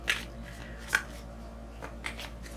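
Moonology oracle cards are shuffled in a few soft, brief riffling bursts over a low steady hum, fairly quiet and close, with no talking.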